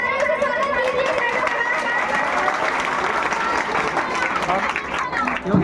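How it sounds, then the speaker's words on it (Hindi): A crowd claps steadily throughout at a Teacher's Day celebration as a teacher comes up to cut a cake, dense applause mixed with scattered voices and chatter. "जोरदार तालियों से स्वागत कीजिए।"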